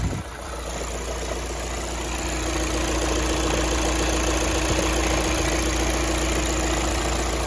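Volkswagen Passat TDI 2.0 diesel engine idling just after starting, a steady close rattling diesel clatter with a low drone and a faint high whine, holding even throughout.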